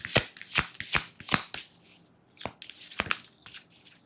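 A tarot card deck is shuffled close up in quick, crisp bursts of riffling and rustling, several sharp flicks following one another with short pauses between them.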